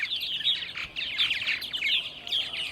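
Purple martins call at a birdhouse in the evening on Long Island, New York, a busy run of high, gurgling chirps and warbles with brief pauses between bursts.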